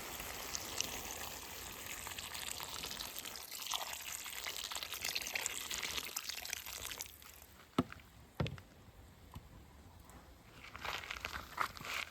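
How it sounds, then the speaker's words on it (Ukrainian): Water pouring into mushroom soup in a kazan outdoors, a steady rushing splash for several seconds that thins into scattered drips and small knocks. "Так, тепер вливаємо водичку."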